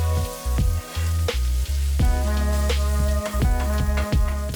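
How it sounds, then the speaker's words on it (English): Beef and onions frying on a new griddle for a Philly cheesesteak give a loud, steady sizzle, broken by repeated scraping and spatula knocks as the onions are mixed in with the meat. "Take out the onions and mix them in with the beef."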